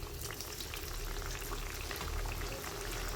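Bajra baati dough balls going into hot oil in a kadhai, a continuous bubbling, boiling fry hiss that holds steady and fairly loud throughout, with no voices.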